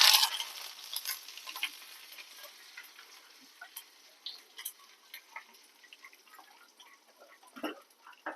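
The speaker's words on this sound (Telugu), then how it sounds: "ఓకేనమ్మా, పోపు వేసేసుకున్నాం." Cumin, dried chilli, mustard seeds and curry leaves sizzle in hot oil as a tempering for toor dal with ganjara leaves, a steady close crackle with scattered sharp pops and spits and no voices.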